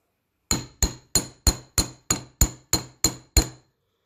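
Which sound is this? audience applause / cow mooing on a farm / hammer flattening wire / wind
hammer flattening wire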